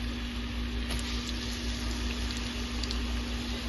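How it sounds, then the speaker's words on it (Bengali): Onion and garlic fry in hot oil in a frying pan, giving a continuous, even sizzle over a low background hum, with no voices. "তো তেলটা গরম হয়ে গিয়েছে, তো এবার আমি তেলের ভেতরে পেঁয়াজ আর রসুনটাকে একটু ঢেলে দিচ্ছি।"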